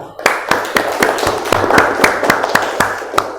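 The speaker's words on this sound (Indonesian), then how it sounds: "tepuk tangan untuk Aulia" Rhythmic group clapping for a student named Aulia during a Quran recitation lesson: a dozen sharp, evenly spaced claps close by, with no voices over them.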